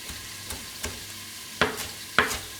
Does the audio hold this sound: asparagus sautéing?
yes